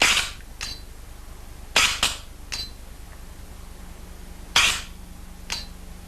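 An Automag Minimag paintball gun fires several sharp, close shots in an irregular rhythm during a bolt stick check, with a faint hum between shots and no talk.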